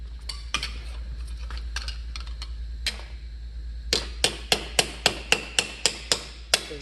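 Sharp metallic hammer strikes on aluminum sheet for an armor breastplate, light and scattered at first, then a steady run of loud, evenly spaced blows toward the end.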